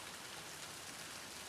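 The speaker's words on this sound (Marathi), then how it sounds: "कंटिन्युअसली पाऊस पडतो" Continuous rain falls outside, a steady, even hiss of drops on surfaces that holds unchanged throughout without any voices.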